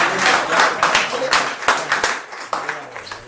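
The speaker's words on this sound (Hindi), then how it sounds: "जोरदार तालियां बजाकर" An audience at a poetry gathering breaks into loud applause for a poet, dense clapping that stays strong, then eases, with a voice faintly audible in the mix.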